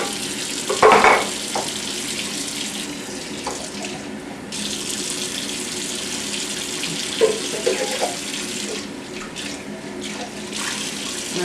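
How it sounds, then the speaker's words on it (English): Tap water runs steadily into a sink while tomato sauce cans are rinsed out, a continuous close splashing hiss with a few louder bursts and knocks, no talking. "I'm cleaning the cans and then I throw it in because you have to add some water to it"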